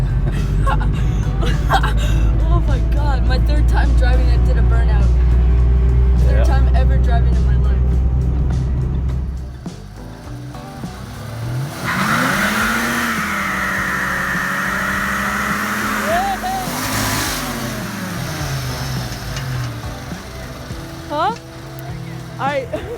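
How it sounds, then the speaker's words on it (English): A 1994 Ford Mustang GT SN95 with a Coyote engine swap roars loudly and close during a burnout, a sustained heavy engine rev that cuts off abruptly, followed by people talking and cheering. "My third time driving, I did a burnout."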